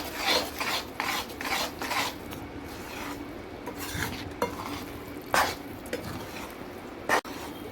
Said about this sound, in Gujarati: હલાવતા રહો હલાવતા રહો જેથી ગોળ મસ્ત પીગળી જાય અને સુખડીમાં એકરસ થઈ જાય ત્યાં સુધી હલાવતા રહેવાનું